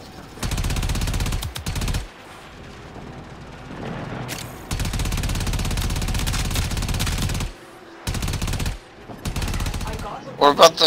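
Sustained automatic gunfire in Warframe comes in several long, loud bursts broken by short silences, with a few sharp booms near the end.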